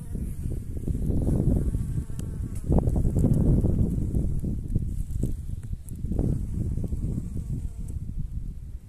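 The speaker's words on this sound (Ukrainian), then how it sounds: "Дуже цікаво, як працюють бджоли" Bees buzzing around early spring coltsfoot flowers while collecting pollen in a meadow, a steady, droning hum that swells and fades, fairly close, with no voices.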